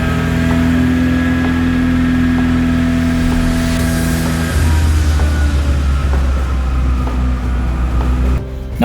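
A Vauxhall Nova engine revs hard on a rolling road, a loud steady drone with strong low harmonics that deepens partway through and then drops off near the end, with no talking.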